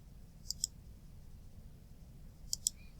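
Faint, sharp computer mouse clicks come in two quick pairs, one near the start and one near the end, over a quiet room background.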